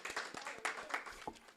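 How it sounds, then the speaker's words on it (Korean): A congregation gives scattered, fairly faint hand clapping during a Korean church worship service, with a few sharp claps spaced unevenly amid light background voices. "박수 한번 드리겠습니다"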